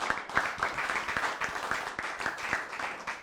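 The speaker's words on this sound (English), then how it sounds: "So put your hands together for Paul D'Angelo" A comedy club audience gives steady applause for the next act, a dense continuous clapping that carries through the whole stretch.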